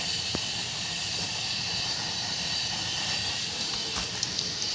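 Biryani masala spices frying in hot oil give off a steady, loud sizzle and hiss that holds evenly from start to finish, with no voices.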